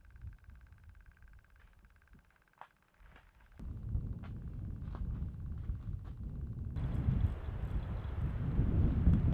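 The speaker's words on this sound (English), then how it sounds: "The wind has picked up quite a bit. It's getting pretty blustery out." Strong wind gusting across a frozen lake during an ice fishing outing, a broad rushing roar that builds steadily louder and buffets the microphone, with no talking.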